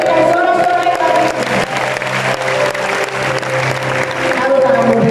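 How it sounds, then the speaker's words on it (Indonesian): A church congregation at a revival service in Batam cheers and applauds, with sustained loud clapping and voices mixed with music throughout. "Terus berikan sorak-sorai lagi"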